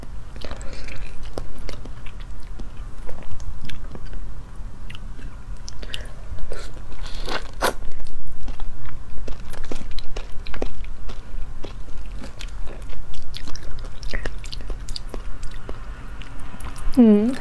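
Close biting and chewing of shrimp with blue roe, with crunchy, wet bites and mouth sounds repeating up close while someone speaks quietly over them.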